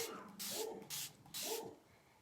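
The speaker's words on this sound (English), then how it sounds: "So I'm just spraying this down to rehydrate it." Three short bursts of spray hiss from a handheld bottle, close and even, separated by brief pauses.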